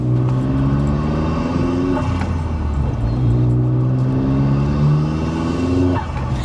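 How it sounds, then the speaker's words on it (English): A self-built 310 bhp Vauxhall Astra VXR heard close, with its engine droning and revving through rising and falling tones as it shifts gears and a few sharp cracks breaking in between. "I love that upshift pop"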